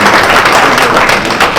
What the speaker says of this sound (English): I want us to do it again because I'm very happy to see you all here.